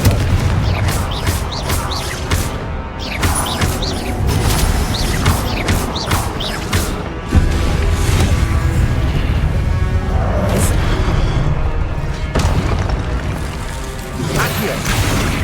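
Confringo fire-blast spell explosions in the Hogwarts Legacy video game: repeated heavy blasts and crashes in a dense, loud, continuous barrage with a layered musical and effects backdrop, no speech.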